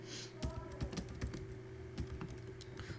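Quick keystrokes on a computer keyboard while entering a search term for SEO keyword research, irregular clicks over about three seconds against a steady low hum, no voices.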